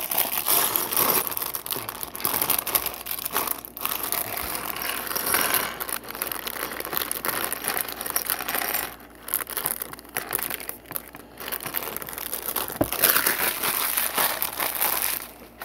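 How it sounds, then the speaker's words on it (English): A plastic bag of LEGO pieces is dumped out, giving a loud, continuous crinkle with a rattling clatter of small plastic parts that keeps going throughout and briefly eases toward the middle. "plastic bag ASMR rolling in there"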